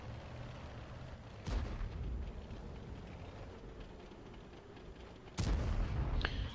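Two distant, muffled tank cannon shots in a tank video game, a few seconds apart, each a sharp boom that fades over a low, quiet background rumble.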